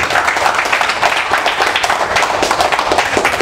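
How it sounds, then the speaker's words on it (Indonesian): A crowd applauds steadily and loudly for a regional election candidate in Banyuwangi, dense continuous clapping throughout with a faint voice underneath. "Kita berikan aplaus sekali lagi kepada Bu Ibu."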